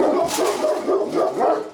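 Several dogs barking inside an animal hoarding house, a quick run of close, loud barks in a short burst with a slight whimpering edge.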